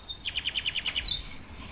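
A cassowary call heard as a quick rapid series of about eight high, clipped chirping notes followed by a brief rising note, moderately loud over quiet background.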